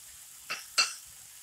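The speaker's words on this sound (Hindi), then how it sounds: "अब हम बीन्स के साथ आलू को अच्छे से मिक्स कर लेंगे।" Potatoes and green beans are stirred in a frying pan: two quick scraping, clinking strokes of a spoon against the pan, the second louder, over a faint quiet background.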